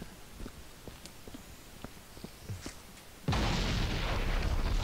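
Explosion in the video game Viscera Cleanup Detail: faint clicks and taps give way to a sudden loud blast that holds as a sustained roaring rumble to the end.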